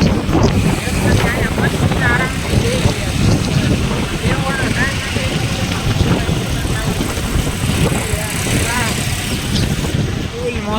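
Wind blowing outdoors on a fresh morning, a steady roaring rush that buffets close against the microphone for the whole stretch, with indistinct voices faintly underneath.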